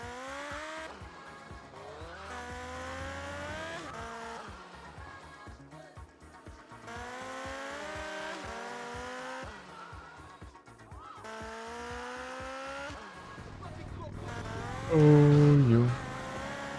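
A motorcycle ridden through foggy streets in GTA Liberty City Stories on PS2 revs in long rising and falling sweeps, with brief gaps between stretches and a sharp squeal near the end.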